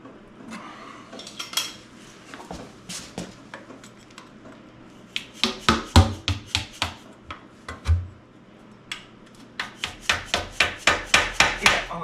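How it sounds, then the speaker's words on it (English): Old oil pan gasket scraped off a 1975 440 engine. Sharp metallic scrapes and knocks come at first scattered, then in quick rhythmic runs, close and loud. "I'm going to destroy this gasket for the oil pan"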